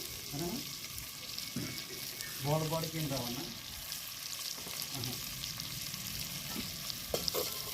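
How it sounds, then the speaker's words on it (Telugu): Cluster bean curry fries in oil while it is stirred, giving a steady close sizzle with scraping stirs, and someone talks over it. "ఒకసారి కలుపుకొని మూత పెట్టి ఒక 5 నిమిషాలు ఆయిల్లో గోకరకాయ అయితే మగ్గనిద్దామండి"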